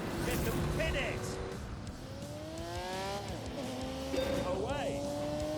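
Engine held at full throttle in The Grand Tour Game, a steady droning tone with gear-shift pitch sweeps, loud and continuous with a voice talking over it.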